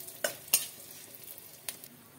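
Cumin and asafoetida in hot oil for arhar dal give a faint low sizzle, with a few sharp clinks and scrapes from stirring standing out above it.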